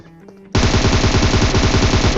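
Rapid automatic gunfire in a multiplayer shooter video game bursts in suddenly after a quiet moment, a loud, fast, even stream of shots continuing to the end.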